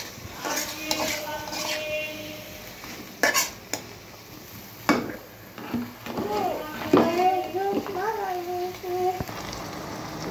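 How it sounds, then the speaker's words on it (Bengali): Onions and garlic with spice paste going into hot oil in a pan: clattering utensil stirs and knocks over a low sizzle, with voices including someone speaking in the background. "এখন আমি পেঁয়াজ রসুনগুলো তেলের মধ্যে দিয়ে দেব।"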